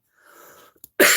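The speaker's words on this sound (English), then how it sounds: "that cough is not anything" A single sharp cough bursts out after a brief, faint breathy intake, close and loud.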